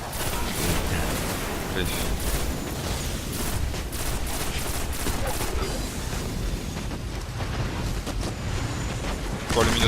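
Dense, continuous gunfire and explosions fill a firefight in the video game Destiny, with a heavy abyssal machine gun in play; bursts stay loud throughout as a player speaks briefly over the din.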